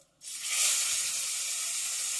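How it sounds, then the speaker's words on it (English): Salmon hits the hot pan and bursts into a loud, steady sizzle that keeps hissing evenly. "So we're going to hear this nice sizzle."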